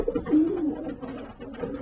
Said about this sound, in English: Very strong pigeon. Good pigeon.